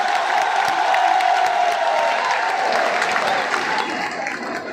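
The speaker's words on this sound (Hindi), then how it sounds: "नरेंद्र मोदी जी का एक बार जोरदार तालियों के साथ स्वागत और अभिनंदन करें" A large crowd in Adarsh Stadium, Barmer, welcomes Narendra Modi with loud, sustained applause and cheering, a continuous roar of clapping with scattered whoops that holds steady for nearly five seconds.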